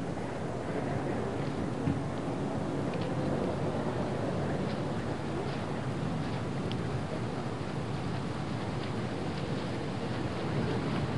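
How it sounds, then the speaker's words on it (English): Wind blowing across a golf course at a 1989 US Open, a steady broadband rush and buffeting on the microphone that stays constant and fairly loud, with no talk. "the wind's coming up a little bit stronger"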